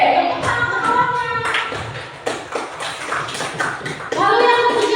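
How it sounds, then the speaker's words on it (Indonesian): Children in a classroom applaud a classmate with quick, scattered hand claps over several seconds, mixed with children's chatter and a voice rising near the end. "Tepuk tangan untuk kawannya."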